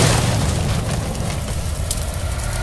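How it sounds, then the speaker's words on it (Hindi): A dull, rumbling vehicle explosion in PUBG with crackling fire and debris, loud at first and then settling into a steady roar. "भाई गाड़ी वाड़ी फट जा रही है इसमें तो"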